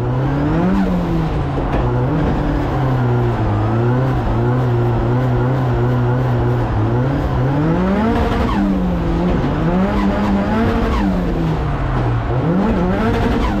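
A drift car sliding on track with heavy handbrake use: loud, close engine revving that rises and falls repeatedly across the whole stretch, with hints of tire squeal and no talking.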